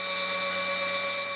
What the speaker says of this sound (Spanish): En primer lugar, se extrae una muestra de polvo con un taladro.